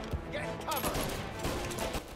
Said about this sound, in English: I gotta shoot them.